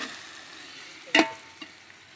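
Country chicken biryani being stirred in a cooking pot right after salt goes in, village-style cooking: one short, close scrape of the spoon through the rice against the pot, with a faint sizzle underneath and a softer knock a moment later.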